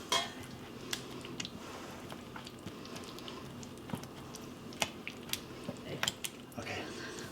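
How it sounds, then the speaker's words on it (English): Chunks of baguette are mashed down into a pumpkin bread pudding mixture in a dish, giving soft squishing thuds and occasional utensil clinks against the pan, close and fairly quiet. "now I'm just gonna mash that down into the pumpkin mixture."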